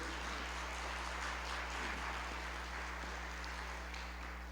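Church congregation applauding together after a scripture reading, a steady dense wash of clapping throughout with a low hum underneath.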